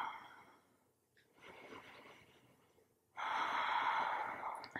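Deep, slow breaths during a prenatal yoga session, a soft inhale followed by a longer, louder exhale, close and unaccompanied by speech.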